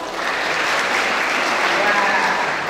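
An audience at a high school farewell event claps for the teachers, a dense, loud, continuous wash of applause from a large crowd with a faint voice mixed in.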